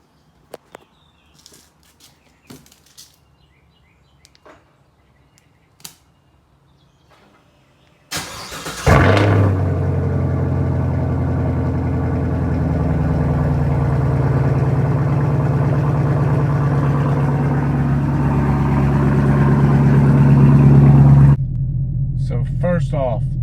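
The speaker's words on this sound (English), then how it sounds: "First off, the idle on this thing is so much louder and so much deeper now." Cold start of a car fitted with an AWE Track Edition axle-back exhaust: quiet handling noises, then the engine catches with a loud burst and settles into a deep, steady rumbling idle that rises slightly before easing off.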